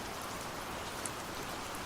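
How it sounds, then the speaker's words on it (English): Steady rain patters against a window in an apartment, a dense, even hiss of droplets that holds at a constant level with no voices present. "Rain still whispering against the window"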